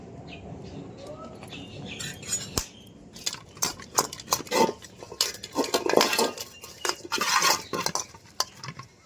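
Cooked rice is mixed with white oil in a bowl, giving irregular close clinks, scrapes and squelchy knocks of a utensil against the bowl in uneven bursts, with faint background sounds between.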